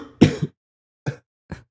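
Three separate coughs, the first loud and doubled, then two shorter, softer ones spaced apart with silence between.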